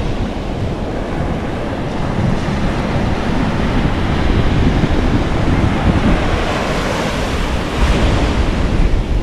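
Sea waves surge in a steady, loud wash of broadband roar with heavy wind buffeting the microphone, continuous throughout with no one speaking.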